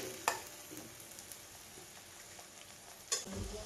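Ground spice paste roasting in oil in a pan, a low steady sizzle with a couple of sharp stirring scrapes near the start and end, no talking.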